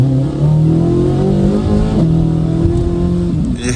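A car engine revs loudly and steadily nearby, pitch rising gradually, dipping briefly, then climbing again before easing off, with no talk over it.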